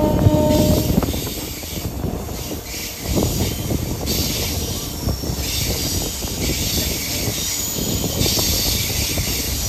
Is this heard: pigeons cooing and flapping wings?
no